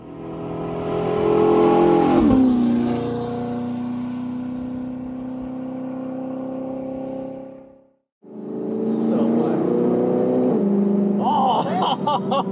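An Audi R8 with S-Tronic transmission revs hard through an upshift, drops away briefly, then climbs again with rising exhaust roar, close and loud.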